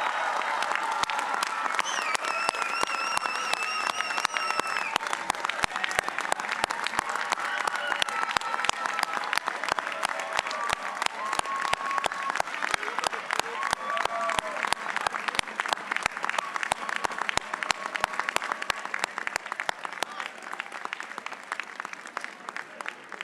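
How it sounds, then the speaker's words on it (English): A crowd at the Hult San Francisco 2022 graduation ceremony applauds steadily for over twenty seconds, with bright cheers and whistles rising above the dense, even clapping. "Please stand, yell, cheer, clap, stomp your feet, hug your neighbor, fist bump,"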